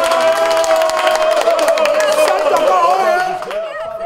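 Large, dense crowd gathered at a polling station in Parakou on election day, a loud continuous roar of many voices with scattered cheers and calls, close and sustained.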